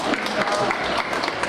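Festival crowd applauding for the mayor at a rainy outdoor market makgeolli festival, a steady dense clatter of many hands with some crowd noise mixed in, no words spoken.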